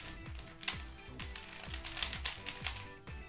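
A magnetized Guhong Rubik's cube, loose and hard to tension, clacks loudly as it is turned: quick, irregular plastic clicks close up, with one sharper snap early on.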